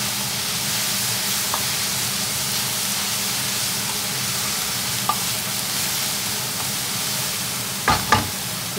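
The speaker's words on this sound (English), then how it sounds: "what will speed up with the process of browning those onions is spreading the surface area" Onions browning in a hot pan give a steady, loud sizzle and hiss, with a few faint clicks and a pair of sharper stirring knocks near the end.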